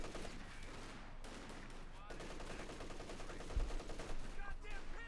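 Machine gun fire in the strategy game Company of Heroes 2 during a battle, rapid distant rattling bursts mixed with occasional heavier bangs, continuing under a commentator's talk.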